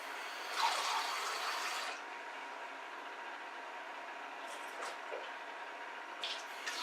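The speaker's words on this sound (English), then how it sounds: "I'm going to put quite a lot of hot water in and I'm going to fill it up with some cooler water" Hot and cool tap water running into a measuring jug in a kitchen, a soft hiss of pouring that fades after a couple of seconds, followed by quiet room tone with a few faint clinks.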